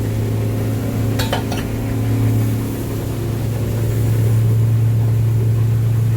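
An offshore Duckworth 28 boat cruises on a single outboard motor, a loud, steady low engine drone with rushing water and a couple of brief rattles early on.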